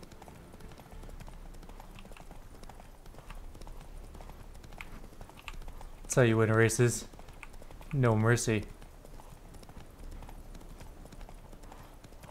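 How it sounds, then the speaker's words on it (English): Horse hooves clip-clopping at a gallop during a race in the video game Witcher 3, a steady quiet patter under two short bursts of someone talking. "And then we'll gallop again."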